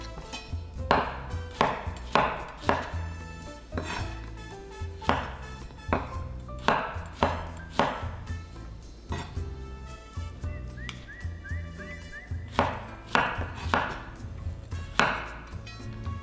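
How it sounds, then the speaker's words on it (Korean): Knife strokes cut through soft strawberries onto a board in a steady series of crisp chops, with a faint whistle-like tone drifting in partway through. "이렇게 2분의 1로 슬라이스 하셔도 좋아요."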